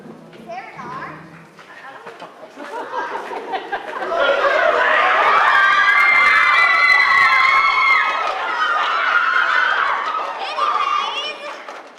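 A crowd of children shouting and cheering at a school pep rally led by cheerleaders, rising from scattered voices into a loud, sustained roar of chatter and yelling.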